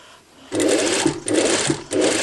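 A sewing machine stitches a blouse from a kit, running in three steady bursts of fast, even whirring with short pauses between them, close and clear with no talk.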